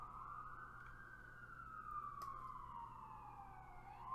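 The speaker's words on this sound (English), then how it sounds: "Sorry if you hear a fire truck in the background." A fire truck siren wails faintly in the distance behind a steady low hum, its tone sliding slowly up and down in a long continuous sweep with no talking.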